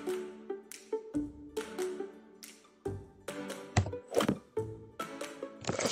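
Sliding box in a simple slider video game thudding repeatedly, a series of dull, close thunks landing at an uneven pace, with no talk.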